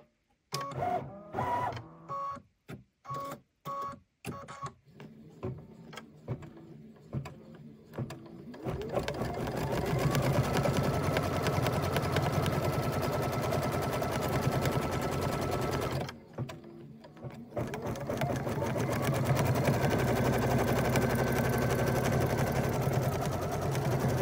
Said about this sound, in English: we are going to start stitching now